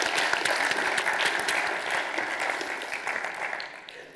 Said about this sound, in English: Round of applause for Jasmine.